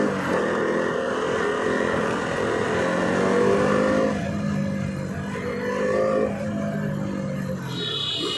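A KTM Duke 200 motorcycle engine revs loudly and continuously nearby, its pitch swelling and easing in a steady roar.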